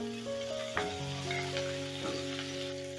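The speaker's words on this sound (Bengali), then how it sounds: "এবারে ওই তেলেই আমি ভেজে নিচ্ছি বেগুনগুলো" Eggplant pieces frying in hot oil: a continuous crackling sizzle with scattered pops, fairly quiet, alongside steady tonal hums from kitchen background sound and no speech.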